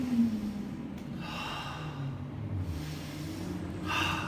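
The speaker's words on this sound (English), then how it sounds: "and just breathe." Slow, deep breaths in and out during a posterior shoulder stretch, close and fairly soft, with audible inhale and exhale rushes and no talking.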